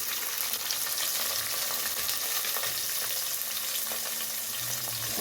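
Onion, cumin and curry leaves fry in a pan for a mixed vegetable sambar, giving a steady close sizzle and crackle with faint stirring throughout.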